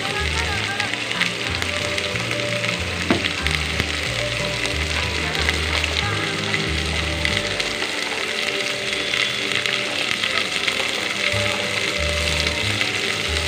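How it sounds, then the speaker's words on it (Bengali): Ground chili, coriander and cumin powders frying in a pan for a Bangladeshi beef curry, a steady close sizzle with clattering stirring throughout, running continuously under background music. "এখন মশলাগুলো একটু কষানো হয়েছে"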